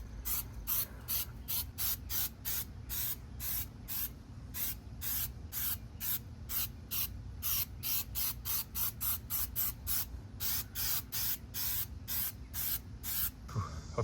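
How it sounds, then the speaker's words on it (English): Rapid trigger sprays of tire shine from a spray bottle onto a tire, dozens of short hissing bursts in a steady rhythm, close by, with brief pauses. "Again, spraying the outside circumference"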